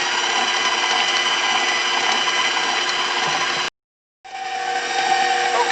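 Electric mixer beating cheesecake batter in a bowl, a loud steady whirring hum that cuts out briefly and then starts again.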